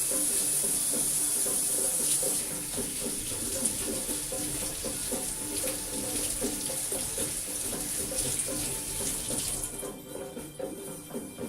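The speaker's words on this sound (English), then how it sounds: "Let's go wash our hands while we let this sit." Tap water runs steadily into a sink for hand washing in a home kitchen, a continuous hiss that holds for about ten seconds before thinning out, with no talking.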